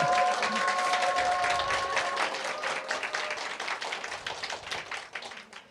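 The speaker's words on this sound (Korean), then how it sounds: "목사님과 사모님께 감사의 박수 좀 올려드렸으면 좋겠습니다" Church congregation clapping for the pastor and his wife, an even rapid patter of hands at moderate distance, thinning out and fading near the end.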